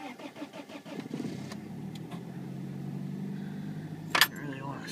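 A 1992 Geo Prizm at -2°F cold-cranks in a quick rhythmic chug before catching and settling into a steady low idle, with a brief sharp clink of keys near the end.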